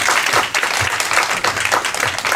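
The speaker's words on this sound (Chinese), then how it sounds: "我们掌声欢迎李福恩李老师" An indoor audience at a sports science lecture applauds to welcome the speaker, a steady, dense wash of clapping that fills the whole stretch without pause.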